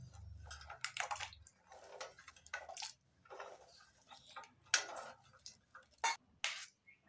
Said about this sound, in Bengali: এবার বীজগুলো জলের মধ্যে একটু নাড়িয়ে নিলাম।